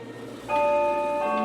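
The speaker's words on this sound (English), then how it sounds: "The chimes were ringing the 11:15 at that moment." A single bell chime strikes the hour and rings on with a clear, sustained, resonant tone, loud and alone after a quiet moment.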